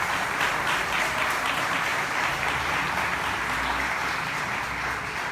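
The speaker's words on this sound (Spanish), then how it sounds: "Un fuerte aplauso" Audience applause at a literary event honoring a poet, a steady dense wash of many hands clapping that stays loud and even throughout with no talk over it.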